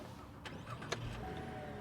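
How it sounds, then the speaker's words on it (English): A 2015 Cadillac ATS Coupe starts with a push button: a couple of faint clicks, then a low engine rumble rising and holding steady inside the cabin. "Simple push button start."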